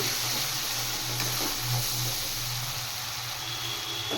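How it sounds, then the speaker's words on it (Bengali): A fish curry masala with chili powder fries in a pan, giving a constant close sizzle and hiss with a low steady hum beneath. "এবার একটু ভাজা ভাজা করে নেব"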